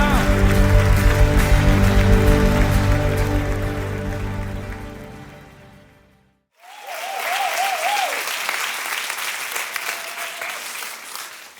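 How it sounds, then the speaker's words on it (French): Applause from a church congregation during worship, a loud continuous wash of clapping over sustained organ or keyboard chords, breaking to near silence before resuming with a voice singing above it. "Est-ce qu'on peut applaudir le Roi des Rois, le Seigneur des Seigneurs?"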